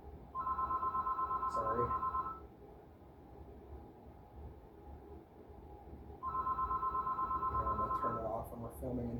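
A telephone rings inside a game store, two loud electronic ring bursts about four seconds apart, each lasting around two seconds, with people talking quietly underneath and someone briefly speaking.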